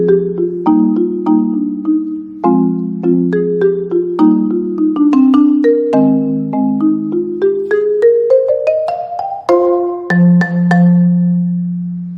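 Four-mallet marimba phrase played at mezzo forte with musical shaping: rolled and struck chords in a steady flowing rhythm, notes climbing through the phrase with gentle swells, close and clear, ending on a sustained low roll.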